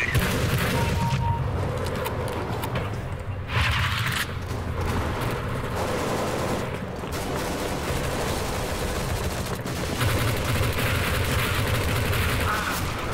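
Counter-Strike gunfire, a dense near-continuous barrage of machine-gun bursts and booming shots, loud and close throughout with brief dips, and voices faintly present beneath.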